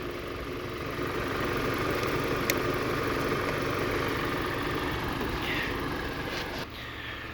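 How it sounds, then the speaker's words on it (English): A car engine runs at a steady idle while jump-starting a vehicle with a dead battery, a constant low drone close by with a faint click near the start. "it should make a pulling noise on the running engine"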